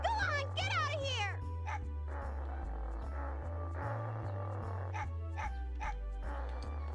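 A dog barking in the Mega Man Legends video game, several quick yips and barks over looping low game music, with talk in between.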